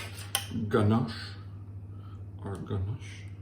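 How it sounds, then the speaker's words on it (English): Chocolate ganache is stirred in a bowl, with a few soft utensil scrapes and clinks against the dish, close and fairly quiet, mixed with a person talking. "So now again, stir our ganache"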